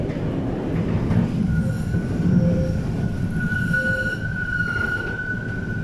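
Wrocław route 9 tram rolling along its rails near Park Szczytnicki, a steady close rumble with a thin rising wheel squeal and faint clicks over the track, no voices.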